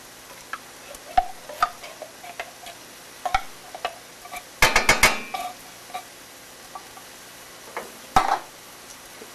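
Tomato soup being stirred into browned meat for tamales, a spoon scraping and clicking against the pot in scattered knocks, with one quick burst of rapid clatter midway over a faint sizzle.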